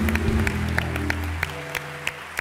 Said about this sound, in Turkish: bütün oradaki çalışanlara toplu bir alkış alalım onlara